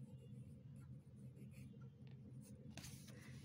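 Pen or pencil writing in a class work notebook during a first-grade Hindi lesson, with soft, intermittent scratching strokes over a steady low room hum.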